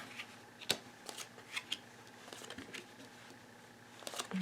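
Soft, close shuffling and papery flicks of playing cards being handled and slid around, with scattered light taps and rustles at a low volume.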